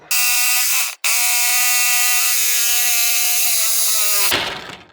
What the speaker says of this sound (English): Can't use a power tool without giving it a couple test revs.